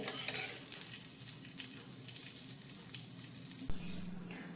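Rava-coated squid frying in a little oil on a pan, a continuous close sizzle and crackle with a brief thump near the end, no talking.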